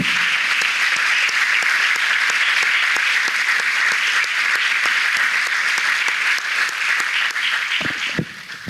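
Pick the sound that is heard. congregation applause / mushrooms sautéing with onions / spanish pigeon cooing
congregation applause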